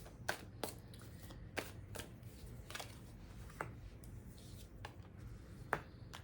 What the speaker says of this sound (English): let's pull some more cards and see where this is going